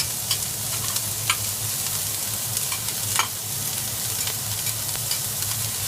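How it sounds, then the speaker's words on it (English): Onion fries slowly in oil for a Burmese chicken curry, giving a steady close sizzle with scattered sharp clicks and scrapes from stirring, and no voices. "You want to slowly brown the onion"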